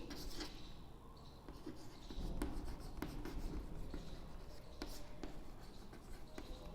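Pen scratching steadily on paper in close, quiet strokes, with short bursts and brief pauses as the writing goes on during a zoology lecture, with no talking.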